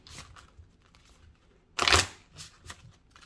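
Oracle cards being cut and shuffled by hand: soft papery rustles, then one louder riffling burst near the middle, followed by lighter card flicks.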